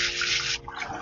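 Tap water splashing into a bowl of rice being rinsed, a steady close rush of running water that thins out after a moment into lighter sloshing and trickling.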